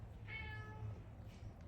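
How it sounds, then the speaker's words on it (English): Uzi, a cat, gives one short, soft meow with a rising and falling tone in a quiet indoor space. "your meowing is not helping"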